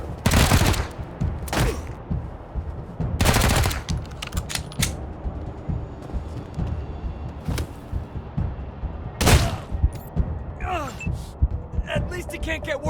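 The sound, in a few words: gunfire in video game Wasteland 3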